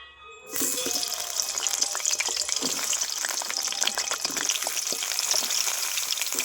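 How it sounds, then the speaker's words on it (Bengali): Pointed gourd (potol) frying in hot oil, starting abruptly with a bright, continuous crackling sizzle close by, dotted with sharp pops and stirring clicks, steady for several seconds. "এবার আমি একই তেলে পটলটাও ভেজে নেব"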